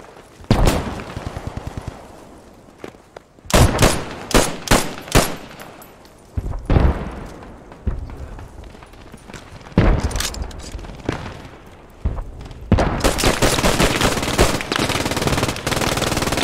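Video game gunfire: a long, loud stretch of automatic fire in rapid bursts and rattling volleys, with heavy booming shots between them and a continuous burst near the end.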